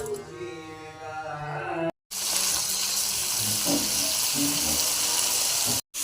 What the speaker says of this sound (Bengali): মাছগুলো আমি ভাজা হতে বসে দিয়েছি